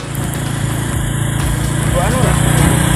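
Small automatic scooter engine running steadily on a village road, a continuous low drone with engine harmonics throughout, close and fairly loud, with faint voice sounds mixed in.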